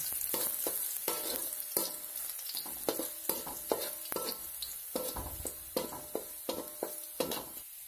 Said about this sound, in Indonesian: masukkan bawang putih tumis hingga harum